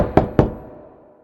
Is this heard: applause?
no